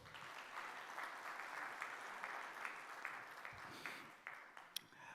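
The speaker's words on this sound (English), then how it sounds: "Please give a round of applause." An audience at Expo 2020 in Dubai applauds for the Chief Minister of Tamil Nadu, with sustained hall-wide clapping that stays fairly even and slowly thins toward the end, heard at a distance and fairly faint.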